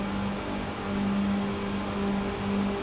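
A K5 Super Dash Series race car running side by side at Daytona in the iRacing sim, its engine a steady, close drone that swells slightly and holds throughout without pause.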